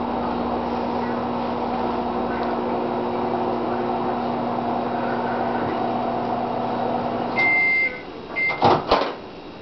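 A microwave oven hums steadily up close while melting butter, then beeps as it finishes, followed by the door clunking open.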